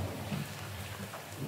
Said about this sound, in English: with the storm and the rain and everything, it just, wow, it really is scary